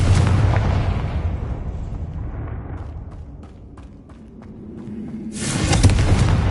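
A Confringo blasting spell detonates in the Hogwarts game, a loud rumbling explosion that fades over several seconds before a second roaring blast swells near the end.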